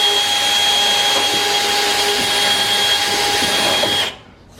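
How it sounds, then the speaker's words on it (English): A power drill runs steadily for about four seconds, boring through layered metal building framing up to an R panel, with a strong constant whine before it cuts off abruptly. "we're just going to drill through the stack up until I hit the"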